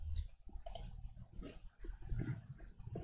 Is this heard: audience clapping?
no